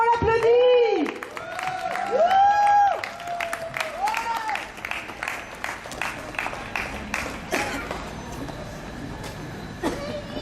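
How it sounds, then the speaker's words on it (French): Applause from a slam poetry audience after a performance, spread-out clapping that starts under a voice singing and calling out and continues with scattered individual claps. "jusqu'au bout, on l'applaudit."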